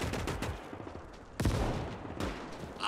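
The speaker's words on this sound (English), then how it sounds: "we're in range of the mortar" Mortar and gunfire in the WWII Eastern Front game OstFront, with scattered rattling shots and two sharp, heavy blasts standing out over a noisy battlefield background, no talking.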